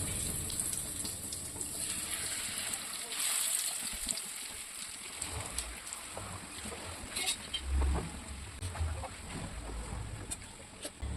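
Chicken pieces for biryani fry in hot oil with a bright, continuous sizzle and occasional pops and spatters, while a voice talks underneath.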